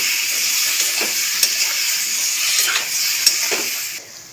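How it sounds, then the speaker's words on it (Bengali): Tomatoes with salt and turmeric sizzle steadily in a hot pan, a loud, continuous frying hiss broken by a few soft taps of a stirring spoon. "টমেটোর মধ্যে একটুখানি নুন দিয়ে দেবো, একটু হলুদ দিয়ে দেবো। ভালো করে নাড়িয়ে নেব।"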